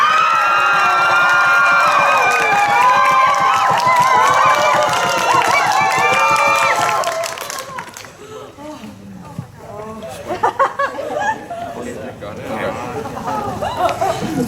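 A team lets out a loud group cheer of many voices, shrieks and shouts for about seven seconds, then it stops abruptly and scattered chatter and talking follow.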